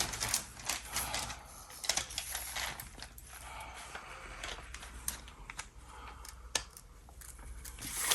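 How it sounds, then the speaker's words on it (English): Scissors cutting through paper for papercut art, a close, busy run of small snips and crisp rustles as the sheet is turned between cuts, with no talking. "And while I'm cutting, I often turn the paper."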